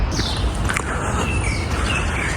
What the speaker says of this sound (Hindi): चिड़ियों की चहचहाहट आपको सुनाई दे रही होगी।